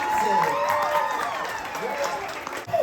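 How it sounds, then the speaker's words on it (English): Audience applause at the Hoop Dee Doo Musical Revue dinner show at Disney World, a dense, steady wash of crowd clapping and cheering, with a performer's amplified voice and music carrying over it throughout. "keep that applause going for Miss Kitty and Jackie for their fine"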